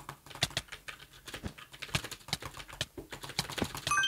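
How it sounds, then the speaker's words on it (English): A brand new computer keyboard clatters with quick, irregular keystrokes and sharper taps during a Hypixel Bedwars fight, close and fairly quiet, with no talking. "I want you guys to listen to the keyboard sounds when I fight this guy"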